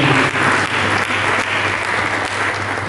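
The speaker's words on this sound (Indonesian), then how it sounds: "Mari kita berikan tepuk tangan." Church congregation applauding during a sermon, a full, even roar of clapping from many people, close and loud, sustained without pause.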